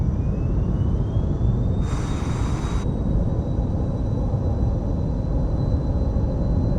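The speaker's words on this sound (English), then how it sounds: "So now we're flying like an actual plane." A plane's engine drones loudly and steadily in flight in the video game Microsoft Flight Simulator 2020, a dense roar with a thin tone slowly rising in pitch and a brief hissing burst partway through.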